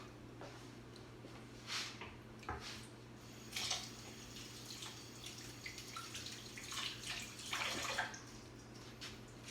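A kitchen tap runs while hands are washed under it, a steady close rush of water with small splashy swells and drips, fairly quiet and with no talk.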